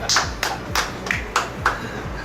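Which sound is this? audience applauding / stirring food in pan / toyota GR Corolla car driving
audience applauding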